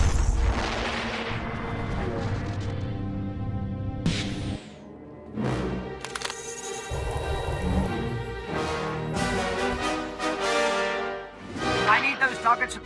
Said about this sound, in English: Missiles locked and away.